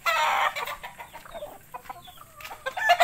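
Young stag roosters cluck and give short crowing calls close by, with a loud burst at the start and scattered calls following.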